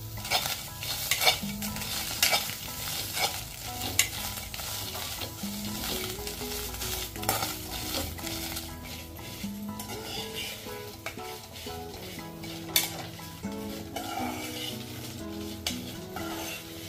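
Double beans roast in a kadhai, with a continuous sizzle and frequent scraping, clinking stirs of a metal spoon against the pan, heard close up over faint background music.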